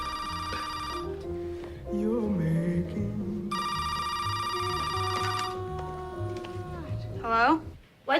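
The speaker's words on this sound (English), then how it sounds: "my phone just rang and I answered it" A telephone rings in repeated electronic bursts, with overlapping voices talking throughout and a sharp swell near the end.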